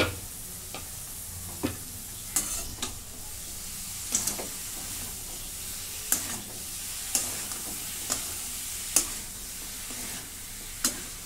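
Cauliflower frying in a pan, a steady hiss of sizzling broken by repeated sharp scrapes and clicks of a spoon stirring at irregular intervals.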